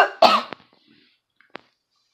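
A single harsh cough up close, followed by a couple of short faint throat sounds and quiet.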